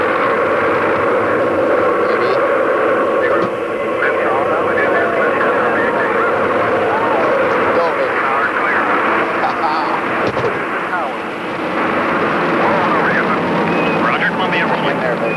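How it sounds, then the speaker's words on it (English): The Space Shuttle STS-3 launches after main engine ignition, and its continuous loud, dense roar with crackle fills the whole stretch while a voice talks over it. "We have main engine ignition."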